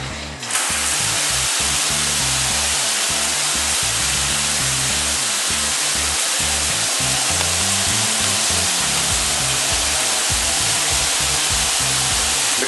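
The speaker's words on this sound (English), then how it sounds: "So run the shower again." A shower runs steadily onto a freshly cleaned drain with its hair trap removed, a loud continuous hiss of spraying water draining freely, alone without talk.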